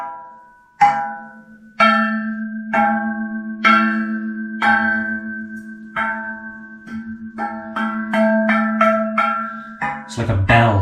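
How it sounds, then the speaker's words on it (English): Tapped speaker stands ring out like a bell: a series of sharp metallic strikes with sustained tonal decay, spaced about a second apart, then quicker hits toward the end, close and fairly loud. "Those top halves are ringing like a bell."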